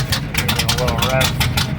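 A car engine fitted with a new Comp Cam 270H camshaft and an air gap intake gives a short, throaty rev above a rough idle, loud and close, with a voice talking over it.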